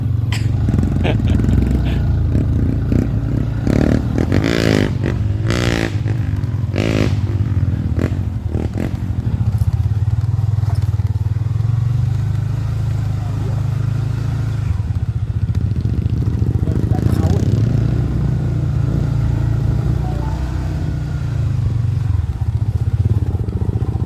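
A trail motorcycle engine runs steadily throughout, with rumbling idle and revving, clattering bursts near the start, and voices talking over it.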